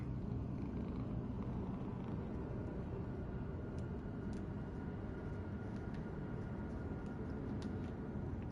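A contented cat purrs close and steady throughout, a continuous low rumbling drone with no talk over it.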